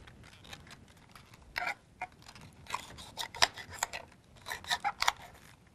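Knife slicing red cabbage leaves into thin strips on a cutting board, a series of crisp, uneven chops close up, some clustered in quick bursts, with no talk.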